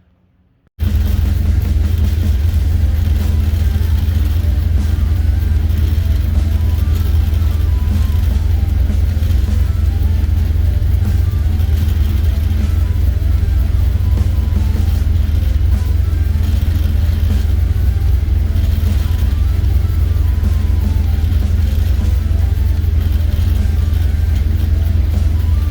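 A car engine idles steadily and loudly after a transmission cooler install, a continuous low rumble that starts abruptly and holds an even drone throughout with no talking.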